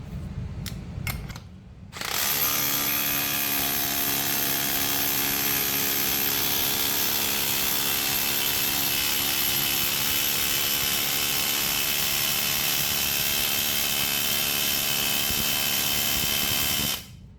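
A Milwaukee Surge hydraulic impact driver runs in third gear, starting after a few brief clicks and then holding a loud, steady, high-pitched whirring drone with a faint rattle for about fifteen seconds before cutting off.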